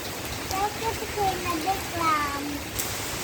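Steady rain from a storm pours down as a dense, even hiss, with a voice talking intermittently over it.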